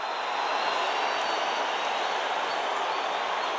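A football stadium crowd applauds a goalkeeper's brave save at the 2013 Confederations Cup match between Tahiti and Nigeria, a dense, steady wash of clapping and crowd noise that holds at an even level throughout.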